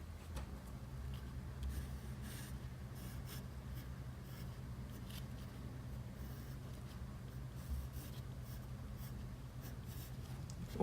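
A pencil draws lines on paper, sketching a small submachine gun: soft, steady scratching strokes, close and faint, repeated without pause and with no voices.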